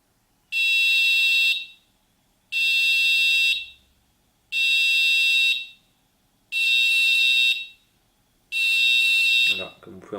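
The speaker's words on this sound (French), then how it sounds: "On va faire test d'alarme." Netatmo smart smoke detector sounding its test alarm: five loud, piercing beeps of about a second each at regular intervals, with a voice starting right at the end.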